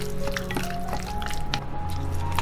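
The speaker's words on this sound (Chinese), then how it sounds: "接着来切几个冬菇，加到腌制好的鸡肉里面，搅拌均匀。" Shiitake mushrooms being mixed into marinated chicken give a close, continuous wet squishing and sloshing over a low steady hum, brief and without voices.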